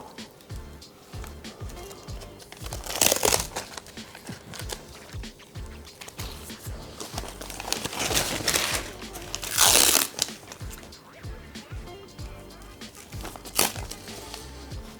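Adhesive strapping tape being pulled off the roll and wrapped around a knee, with continuous crinkly rustling and several louder ripping surges as the tape is stretched.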